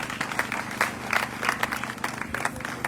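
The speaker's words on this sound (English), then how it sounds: "the Honorable Minister deserves another big round of applause" An audience applauds the minister at a ground-breaking ceremony for a housing estate in Oyo State, steady clapping from a sizeable crowd heard at moderate distance, with a voice faintly underneath.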